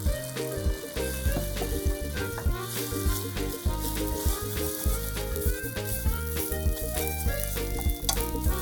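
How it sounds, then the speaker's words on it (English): Loud, steady sizzling of an egg frying in oil in a hot pan, continuous crackle with small pops throughout. "Add the egg and fry it."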